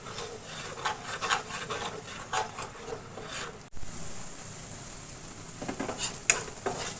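Mustard and spice paste with ground cumin and ginger frying and being stirred in a pan for a Bengali mustard fish curry, giving a steady close sizzle with repeated scraping strokes of the spoon and a brief gap midway.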